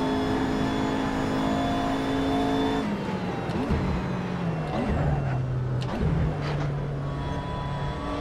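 Race car engine in the Assetto Corsa racing game, heard first as a steady high whine, then revving and shifting through gears as the car pulls out of the pits, with brief upward sweeps over the continuous engine drone.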